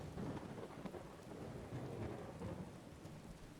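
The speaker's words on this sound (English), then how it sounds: "This shit's louder than like real rain." Heavy rain and rolling thunder from a storm in the Skyrim video game, a dense, steady downpour roar with low rumbles swelling throughout, loud and close with no voices.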